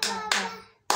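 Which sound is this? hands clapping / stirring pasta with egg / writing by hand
hands clapping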